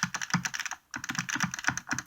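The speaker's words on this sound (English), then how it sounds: "Kind of has a clicky stick, not really, but you can hear it." Arcade fight stick for a PS3 being worked, joystick and buttons clicking rapidly in a dense, close rattle of small plastic taps with a brief pause midway, no talking.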